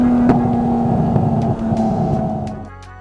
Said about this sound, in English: I wanted that type of exhaust audio for this clip in particular